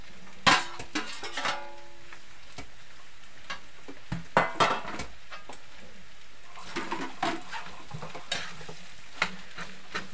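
Beef skin and innards sautéing for pinapaitan, a steady frying sizzle broken by repeated scrapes and clatters of a utensil stirring in the pot, close and fairly quiet with no talk.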